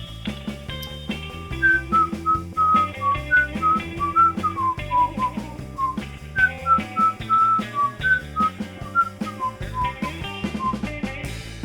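A person whistles a melody, a clear bright tune of short gliding notes, played over a steady backing track with bass and drums.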